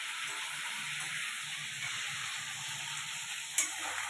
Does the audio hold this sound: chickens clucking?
no